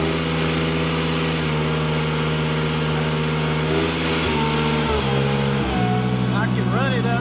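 A Ventrac mower engine runs up to about 3,000 RPM while mowing rough grass, giving a loud, steady droning hum with a few brief dips and rises in pitch, and someone talking over it.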